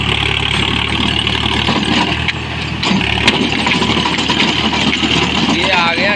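A tractor in first gear pulls a rotavator through deep ploughing on farmland, its diesel engine droning steadily and loudly while someone talks over it.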